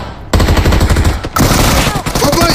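Rapid gunfire in a squad-battle shooter game rattles loud and close in quick automatic bursts, with brief gaps between volleys.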